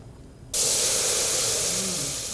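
Milk poured into a hot pan for a sauce in a potato-carrot casserole, bursting into a loud, sudden sizzling hiss that holds steady and slowly eases.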